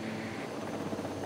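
A helicopter delivering product in the video game Jurassic World Evolution 2, heard as a steady, moderately loud rotor and engine drone that runs unbroken through the short moment.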